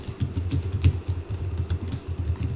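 Rapid, close keystrokes on a computer keyboard, an uneven clatter of taps running throughout with no voice.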